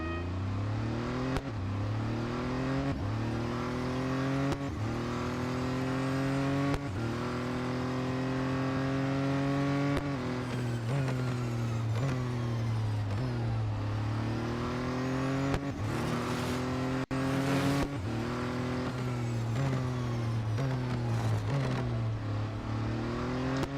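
A fully upgraded race car's engine screams through an autocross event in the Real Racing 3 video game, revving up through repeated gear shifts with rising and dropping pitch, loud and continuous with no talk.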